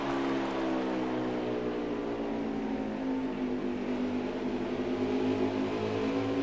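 A race car in an oval racing video game at Iowa rolls steadily through a corner, a continuous engine drone with a slowly shifting pitch and little sign of braking, with no talking.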